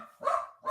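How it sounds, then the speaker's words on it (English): A dog barks twice in the background, the first bark fuller and longer, the second cut short, both fairly faint and distant. "The dog's going crazy"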